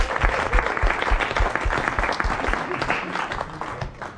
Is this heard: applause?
yes